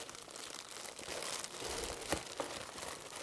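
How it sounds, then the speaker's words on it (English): Scissors cut up a plastic Ziploc bag at close range with steady crinkling and crackling and a few sharper snips, continuous over a few seconds. "It's a nice bag, a Ziploc bag, but I don't want to risk damaging anything, so I'll just cut that up."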